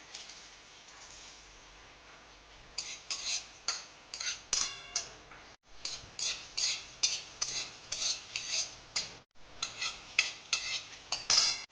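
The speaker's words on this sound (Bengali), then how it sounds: "কড়াই এগুলো হালকা করে এক এক করে নেড়ে নেবো, যেন বেশি ভাজা না হয়ে যায়" Coriander seeds, cumin, fennel and dried red chillies are stirred in a wok as they dry-roast for mango pickle, giving steady, rhythmic scraping strokes up close with brief pauses and no talk.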